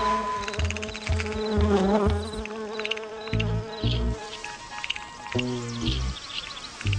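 Solitary bees buzz while visiting garden flowers, several close, loud wingbeat drones in bursts that swell and cut off, some lower and stronger, others higher and fainter.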